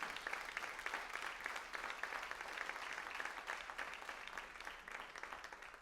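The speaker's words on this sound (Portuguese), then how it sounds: "Você pode aplaudir Jesus por essa palavra?" A church congregation applauding Jesus, a faint, steady wash of distant clapping that holds evenly from start to finish.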